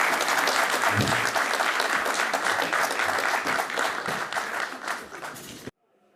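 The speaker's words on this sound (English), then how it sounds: "a hand of applause to the panelists." An audience at a space program panel gives sustained, dense applause for the panelists, loud throughout and tapering slightly before stopping abruptly near the end.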